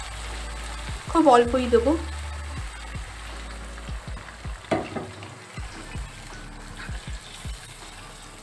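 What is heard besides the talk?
hot water poured into frying chicken masala, sizzling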